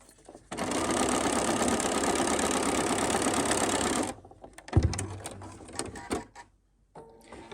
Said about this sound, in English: Just gonna sew straight down where we drew that red line.